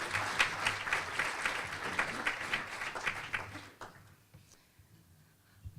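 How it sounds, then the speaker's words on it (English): An audience at a Pasco Chamber of Commerce event applauds warmly with dense clapping for a few seconds before it thins out and fades to a quiet room. "let's give them a warm applause"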